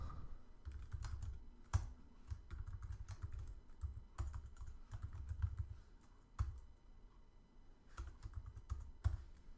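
Close keystrokes on a computer keyboard as code is entered, an irregular run of crisp clicks with a few sharper key strikes, alone with no talk.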